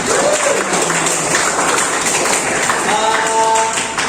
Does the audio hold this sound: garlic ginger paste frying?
no